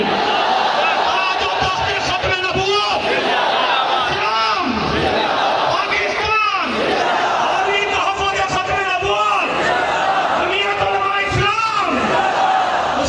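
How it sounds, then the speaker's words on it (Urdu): A large crowd at a Khatam-e-Nabuwat conference rally at Minar-e-Pakistan in Lahore chants the takbir slogan, loud sustained massed voices rising and falling in repeated waves across the whole stretch. "کھڑے ہو کر کے نعرے تکبیر"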